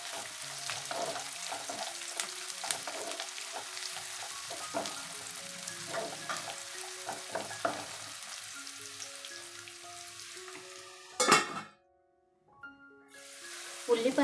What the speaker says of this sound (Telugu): వీటిని మనం మధ్య మధ్యలో తిప్పుకుంటూ వేయించుకోవాలండి.